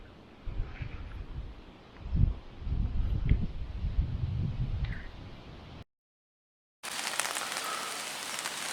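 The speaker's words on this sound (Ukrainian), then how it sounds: "почався дощик" Rain pattering on a surface nearby during float fishing, with gusty rustle and wind buffeting, a brief gap of silence, then steady hissing rainfall.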